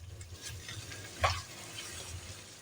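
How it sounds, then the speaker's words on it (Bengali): Pointed gourd (potol) pieces stirred over low heat in a pan, giving a soft, steady sizzle with one brief louder scrape of the spatula midway. "পটলগুলো ছেড়ে দিয়ে একটু হালকা আঁচে নাড়াচাড়া করে নিতে হবে"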